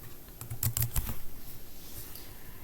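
Several quick keystrokes on a computer keyboard while searching for CMD on a Windows Server 2012 machine, a short burst of clicks early on, then quieter room tone.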